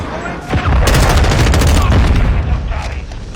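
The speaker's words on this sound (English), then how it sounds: "Hostiles launched a cruise missile." Loud, sustained video game explosions from a cruise missile strike: a sharp blast followed by a dense, rolling barrage of booms and crackling rumble that carries on without pause, then tapers slightly at the end.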